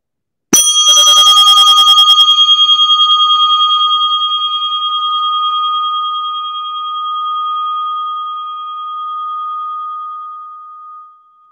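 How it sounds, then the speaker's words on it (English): A Tibetan bell rings once at a meditation gathering, a sharp bright strike followed by a long pure shimmering sustain that slowly fades over about ten seconds, alone and clear without talking. "being aware totally of the sound of this Tibetan bell."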